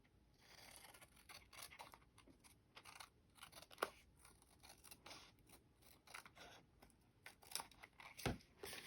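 Scissors snip through copy paper during a Stampin' Up! card-making project, a series of close, crisp cutting clicks and small scrapes in an irregular rhythm with no talking.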